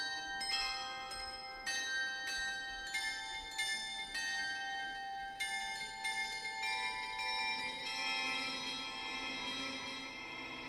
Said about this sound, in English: So those are basically the bells